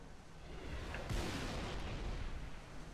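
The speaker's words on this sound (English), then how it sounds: "Look out, Andrew, they're shooting at you." Multiplayer gunfire from the video game Halo: The Master Chief Collection comes as a dense, noisy burst of distant shooting and rumbling blasts that swells around the middle and then holds as a broad wash.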